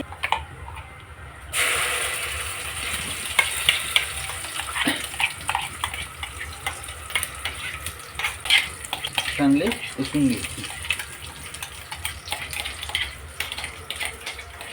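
Bay leaf and cumin frying in a mix of oil and ghee in a pan for a cashew masala curry, with soft sizzling and intermittent stirring and clinks of a utensil against the pot.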